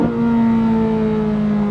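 Chevrolet Corvette C8 Z06 engine revving loudly during a manual downshift, a steady strong tone that slowly falls in pitch, close and continuous with no talk.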